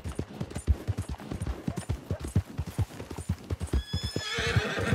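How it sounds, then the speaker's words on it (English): Horse hooves clip-clop in a steady, rapid rhythm in the Red Dead Online video game, close and clear, with a loud neigh rising near the end. "got myself a horse"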